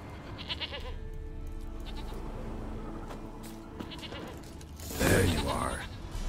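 Goat bleating in The Witcher 3 while the player coaxes a stubborn goat, with a bright, loud bleat near the end over steady game ambience and soft background sound.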